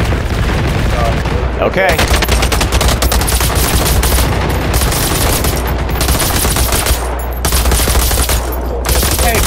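Heavy sustained gunfire in the video game Generation Zero, dense automatic bursts firing almost without pause at close range, with a brief lull partway through and a short spoken word mixed in.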